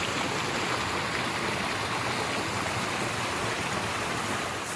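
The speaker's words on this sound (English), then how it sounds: "The river's pretty low." A low river runs steadily over rocks, a continuous broadband rush of flowing water with no breaks, close and fairly loud, with no voices.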